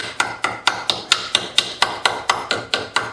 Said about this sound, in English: going to hammer the point, and I'm going to mess up these threads even worse